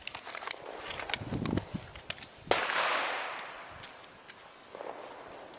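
Handgun shots fired at targets during a three-day defensive handgun course on a range, several sharp cracks at irregular intervals, with one louder close shot ringing out, and no talking.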